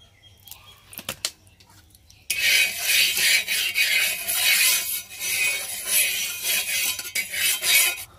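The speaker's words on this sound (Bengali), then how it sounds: "এবারে পরোটাগুলো ভেজে নেব" Lachha paratha frying in oil on a hot tawa: after a quiet start with a few clicks, a loud, steady sizzle and scraping rasp sets in and continues with uneven swells.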